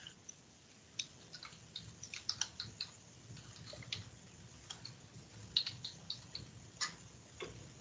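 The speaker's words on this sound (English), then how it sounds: "I'll type that directly into the screen here so you all can see that" Rapid key taps on a computer keyboard while an email address is typed out, a quiet run of light irregular clicks over low room hum, with no voices.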